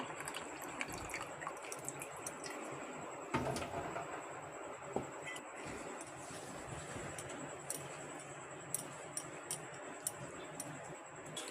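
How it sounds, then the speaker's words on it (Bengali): Fresh chhena cheese squeezed by hand to drain its whey gives faint wet squelches and scattered drips, with a few sharp clicks and knocks over a quiet room background. "এইভাবে চিপে চিপে চিপে চিপে জলটাকে ঝরিয়ে নিতে হবে।"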